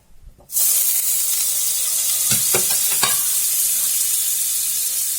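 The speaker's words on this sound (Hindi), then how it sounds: "कढ़ाई गर्म हो चुकी है, तो इसमें हम बटर डालेंगे।" Butter hits a hot kadhai and breaks into a loud, steady sizzle that starts abruptly after a brief quiet moment and continues close by, with a few light stirring clinks partway through.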